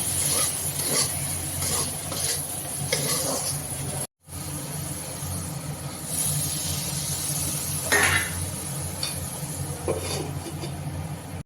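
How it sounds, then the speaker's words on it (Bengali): Curry cooking in a pan with green chillies and garlic is stirred with clinking utensil scrapes, then water is added and a lid goes on, over a steady background hum. "এখন এটাকে নাড়াচাড়া দিয়ে আমি একটু জল দিয়ে ঢেকে দেব।"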